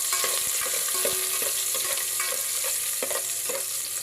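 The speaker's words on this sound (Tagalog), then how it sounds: "Ito yung gigisa ko muna." Papaya sautéing in a pan sizzles steadily, with close, irregular scrapes and stirring clatters of a utensil over the constant frying hiss; no one speaks.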